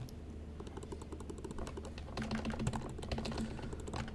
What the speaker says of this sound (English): Can you guys hear me angrily inputting on my keyboard?